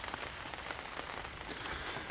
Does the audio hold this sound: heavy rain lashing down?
yes